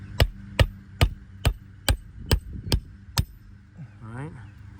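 A hammer strikes the end of a roof snake tool to drive a roofing nail, eight sharp, evenly spaced metallic blows close by, followed by a brief voice at the end.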